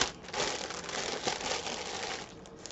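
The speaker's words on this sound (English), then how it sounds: "You'll have to forgive the rustling in this video. I have a bag behind me just to put things in as I go" A plastic bag rustles and crinkles steadily behind someone preparing a salad in a kitchen, a continuous close crackling lasting a few seconds with no talking.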